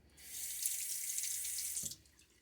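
Tap water running into a sink to rinse after a wet shave, a bright close hiss that starts abruptly, holds steady for under two seconds, then cuts off, with no talking.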